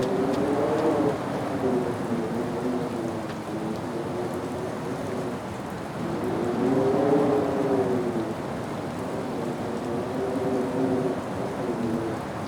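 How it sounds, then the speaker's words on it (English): Steady heavy rain pours down continuously while low, rolling thunder swells and fades in repeated waves underneath, a dense storm ambience with no voices. "The rain poured down, the thunder rolled"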